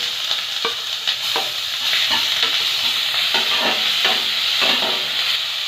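Onion paste frying in a pan for a Bengali aar fish curry, a loud steady sizzle with repeated scraping stirs from a spatula, no one talking.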